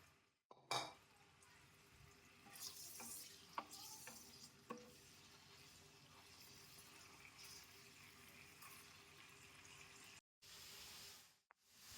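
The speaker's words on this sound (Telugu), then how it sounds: "నూనె కాగిందమ్మా, పన్నీర్ ముక్కలు వేసుకున్నాను." Paneer pieces fry in hot oil in a pan with a steady, dense sizzle throughout, broken by a few knocks as pieces go in and a short drop near the end.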